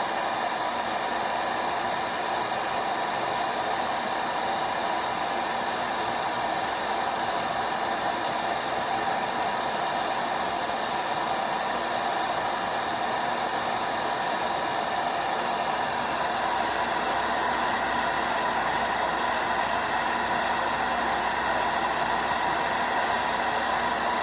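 A heat gun blowing hot air onto a Ford sensor gives a steady, even whooshing hum that holds unchanged from start to finish, with no talking.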